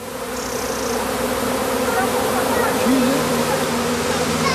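Bees fanning their wings at a straw skep produce a loud, continuous close buzzing drone that stays steady throughout, with a faint higher whine briefly above it.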